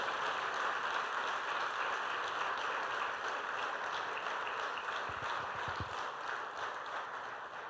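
A church congregation applauds during an evening Portuguese-language sermon, a continuous, fairly distant rush of clapping that holds steady and thins slightly toward the end, with a few low thumps partway through.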